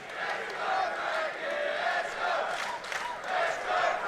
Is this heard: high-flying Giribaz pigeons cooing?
no